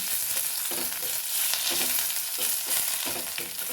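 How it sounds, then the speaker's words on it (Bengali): Mustard seeds, a dry red chili and curry leaves crackle and sizzle in hot tempering oil for papad kadi, with steady frying hiss and intermittent stirring scrapes close by. "গোটা সর্ষে দানা দিয়ে দিলাম একটি শুকনো লঙ্কা ফোড়ন দিয়ে দিলাম আর কিছু কারি পাতা এর মধ্যে দিয়ে দিলাম"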